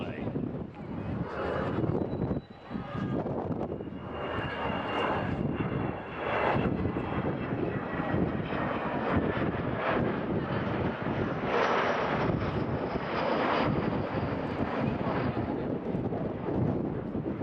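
The Avro Vulcan XH558 bomber flies past alongside another aircraft at an air festival at Weston-super-Mare. A loud, sustained jet roar fills the scene throughout, with gusts of wind noise and a commentator's voice mixed in.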